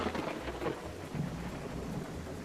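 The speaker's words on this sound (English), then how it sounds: "I think it's the first time I've seen a thunder shower." A thunderstorm in the farming video game Wild Roots, with steady rain pattering on the ground and low rolling thunder rumbling underneath, moderately loud and continuous with no talking.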